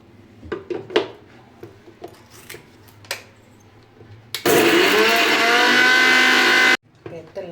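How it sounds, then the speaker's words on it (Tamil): Kitchen mixer grinder blending green chili, coriander and mint, a loud steady whirring roar for a couple of seconds after some light clattering and handling sounds, then cutting off abruptly. "பச்சை மிளகாய், கொத்தமல்லி, புதினா போட்டுட்டு இதை கொஞ்சம் மிக்சியில் போட்டு அரைச்சி வந்துடலாம்"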